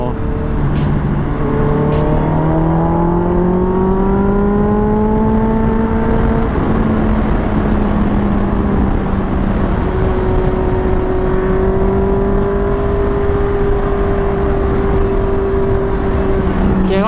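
A Yamaha XMAX scooter ridden fast on the road, its engine droning loud and close with pitch sweeping upward as it accelerates and settling into a steady high whine, over constant wind rush.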